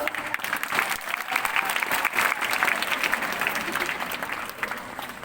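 Sustained clapping from a large school audience at a ceremony honouring a teacher, close and even throughout, with a few voices blending under the claps.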